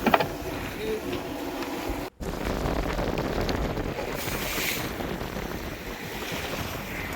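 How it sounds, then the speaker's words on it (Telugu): Sea waves and strong wind surround a fishing boat rolling at sea, a steady loud roar of surf and gusting wind noise across the microphone, with one brief dropout. "ఇప్పుడు గాలి ఎక్కువైపోయింది, సముద్రం నాయ కూడా ఎక్కువైపోయింది, అలలు ఎక్కువ వచ్చేస్తున్నాయి, పడవ రోలింగ్ ఎక్కువైపోతుంది"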